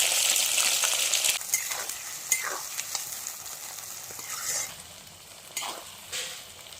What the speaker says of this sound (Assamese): এইখিনি অকণমান টাইম ভাজিব লাগিব।